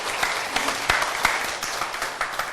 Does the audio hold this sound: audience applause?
yes